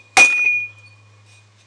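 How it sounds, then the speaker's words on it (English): A single sharp, ringing tap on a smelting vessel breaks the gold prill off the bottom after a smelt of a blue chip soil sample; the clear tone lingers over a low steady hum, followed by a faint knock near the end. "Give it a little tap to break off the prill off the bottom."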